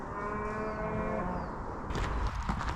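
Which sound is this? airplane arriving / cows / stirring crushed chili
cows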